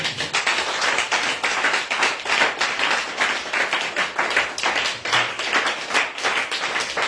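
Steady rhythmic clapping from a church congregation acclaiming the Lord, many hands beating together loudly and continuously with no pauses.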